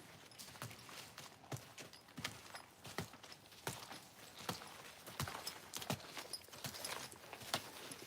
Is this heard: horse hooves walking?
yes